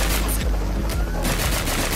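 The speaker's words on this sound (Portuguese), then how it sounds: "É tiro na Alice. É na Alice." Rapid bursts of automatic gunfire in a Brazilian-style GTA video game, fired at a helicopter's propeller, crackling loud and continuous over a dense background for the whole stretch.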